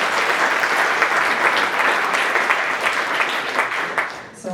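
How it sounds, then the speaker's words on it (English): An audience at a security keynote claps in a sustained, dense burst of applause, loud and even throughout before tapering off at the close. "Round of applause."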